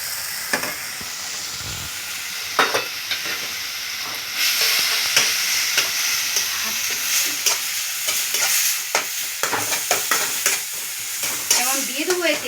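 Chili and turmeric powder fry in a pan with a steady loud sizzle while a spoon scrapes and stirs in repeated strokes, with no voices.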